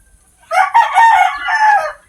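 Rooster crowing close by in a chicken coop full of hens, a single loud cock-a-doodle-doo lasting about a second and a half against quiet surroundings.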